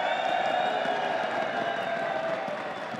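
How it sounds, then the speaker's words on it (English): Large crowd applauding and cheering at a League of Legends esports semifinal at Intel Extreme Masters, Campus Party 2014 in São Paulo, a steady loud wash of clapping throughout. "A terrific crowd yet again here at the Campus Party 2014."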